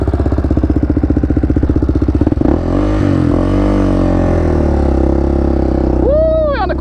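A Honda quad's engine, first idling with a rapid, loud throb, then revved hard under throttle into a sustained roar with wavering pitch, ending with a sharp rising whine and a shout over the engine.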